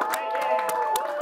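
Audience at a face-off event cheering and clapping to vote for a winner, a dense wash of voices and rapid hand claps, close and steady throughout.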